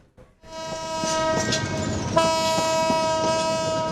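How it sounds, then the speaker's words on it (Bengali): A train departs Kamalapur railway station in Dhaka, its loud horn sounding in a long sustained blast over rumbling rail noise and clatter, close and dominant throughout. "কোনো শিডিউল বিপর্যয় ছাড়াই যথাসময়ে ছেড়ে যাচ্ছে ট্রেন"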